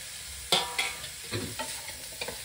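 Chopped chili, carrot and capsicum are stirred in a pan for sago upma, a low sizzle with a few sharp scraping strokes of a spoon, close and alone.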